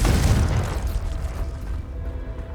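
A Confringo spell in Hogwarts Legacy bursts into a loud, close, fiery explosion with a deep rumbling boom that slowly fades into crackling debris.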